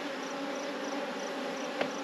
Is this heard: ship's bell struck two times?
no